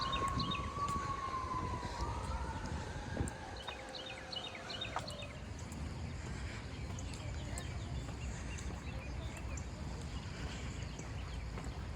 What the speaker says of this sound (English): Got sirens going off.